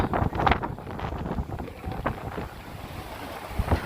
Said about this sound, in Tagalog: grabe lakas ang hangin